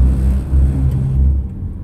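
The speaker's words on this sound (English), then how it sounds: "there's a truck coming up beside me, so I gotta wait for him to pass" A truck passes close beside a car on the road, a loud low rumble and engine drone that swells and then eases off, with no talking over it.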